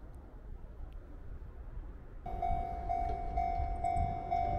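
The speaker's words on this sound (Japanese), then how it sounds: "通過列車が多いので踏切は頻繁になっています" A passing train rumbles through a level crossing on the Nishitetsu line in Japan; partway through, the crossing bell starts ringing in a steady repeating chime over the low rumble.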